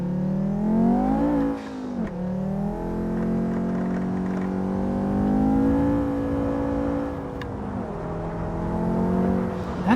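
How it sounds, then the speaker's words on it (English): Race car engine in the Assetto Corsa racing game revving and climbing through gears, each rising pitch sweep ending in a sharp drop at the shift, a smooth, steady whine heard alone from inside the car. "That is a smooth sounding car."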